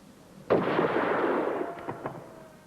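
A single rifle shot from British Army marksmanship training at snap targets cracks loudly near the start, its report rolling away in a long decaying echo with a couple of faint later knocks.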